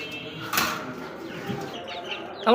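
Egyptian (Mishri) breed chickens at a poultry farm, with soft clucks and bird calls over a steady background murmur and a louder burst near the end.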